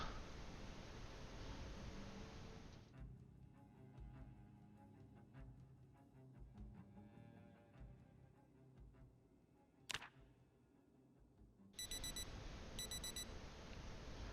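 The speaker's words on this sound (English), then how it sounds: "After being rather unceremoniously awoken a couple of hours later by an alarm I'd forgotten I had set on the watch" A digital wristwatch alarm in Project Zomboid beeps in rapid, repeated high-pitched bursts near the end, following a long stretch of soft background hiss and faint rustling, with no voices present.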